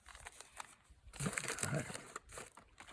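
A plastic bag crinkles in brief, faint rustling bursts while a DJI Mic Mini is unboxed outdoors at Kejimkujik Park, the crackle rising near the middle of the moment and fading after.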